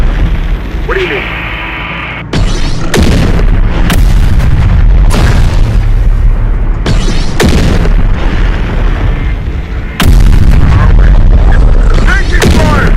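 Gunfire and explosions in the video game Terminator Dark Fate Defiance: loud, dense booms and rattling bursts of shots hitting in repeated waves, with voices calling out over the battle.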